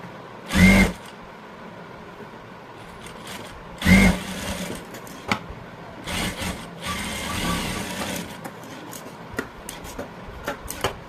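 A sewing machine stitching a blouse shoulder seam runs in two short loud bursts, followed by a longer stretch of steady mechanical whirring at closer range, with no talking.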